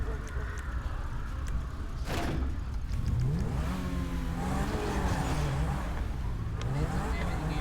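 A car engine in GTA 5 revs up and down through several gear-like pitch sweeps, loud and continuous, with a whooshing pass partway through and background game sounds.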